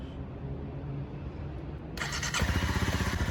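A motorcycle engine starts up near, its idle catching abruptly and settling into a loud, steady rumble after a stretch of low background noise.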